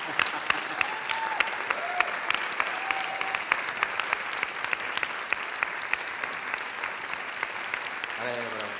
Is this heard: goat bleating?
no